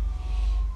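Police car siren in the video game GTA 5, a steady wailing tone held over a loud low rumble for a brief moment, with no talk.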